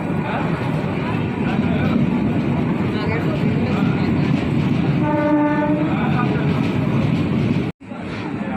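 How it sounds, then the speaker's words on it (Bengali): A train pulls into a railway station with a loud, steady rumble of rolling cars, and a horn blast sounds midway through; voices murmur in the busy surroundings. "চলো ট্রেন ঢুকে গেছে যে আসছে ট্রেন বাবাজি"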